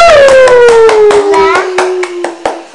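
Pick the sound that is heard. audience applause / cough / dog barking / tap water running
audience applause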